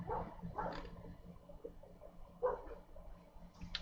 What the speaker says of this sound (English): I heard that pooch. I heard it.